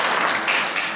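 An audience at an awards ceremony applauds a dancer making her stage debut, a short, bright burst of dense clapping with no talk over it.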